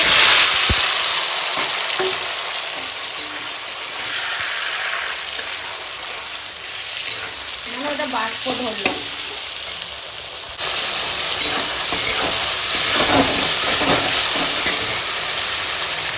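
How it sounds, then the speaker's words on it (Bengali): Tomatoes frying in hot oil for a tomato chutney, a continuous close sizzle and hiss with bursts of spattering and stirring that grows louder partway through. "টমেটোটা এখন তেলের উপর দিয়ে দেবো তেল গরম হয়ে গেছে"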